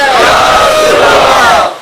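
A large crowd at an Islamic religious lecture shouts a loud unison response to a chanted slogan, one sustained roar that swells and then cuts off.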